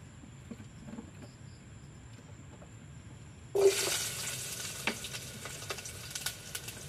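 Ginger, onion and chili hit hot oil in a pan with a sudden loud sizzle partway through, after a quiet stretch of faint kitchen noise, then a steady close frying hiss with a few sharp pops and clicks.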